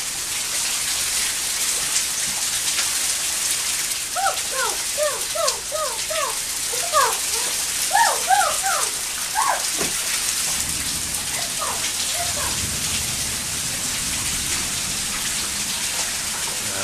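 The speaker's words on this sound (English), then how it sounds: "That is what a hailstorm is like, to go through a hailstorm." Hail pelting down in a hailstorm makes a steady, dense patter that fills the whole stretch, with a few brief high chirping sounds in the middle.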